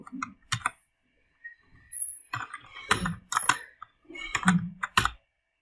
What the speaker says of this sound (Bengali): এখানে এসে আমরা নাম লিখব